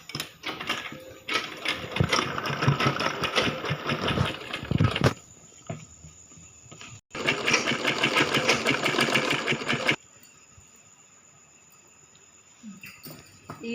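Sewing machine stitching the frill seam of a baby frock, running in two steady bursts of dense mechanical whirring with a short pause between, then stopping into quiet handling noises.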